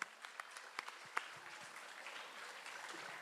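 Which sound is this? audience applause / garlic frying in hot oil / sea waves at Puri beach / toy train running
audience applause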